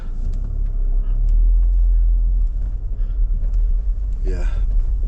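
A car rolls through a badly potholed car park with deep crater-like holes, a heavy low rumble of engine and tyres throughout, with a brief thump near the end.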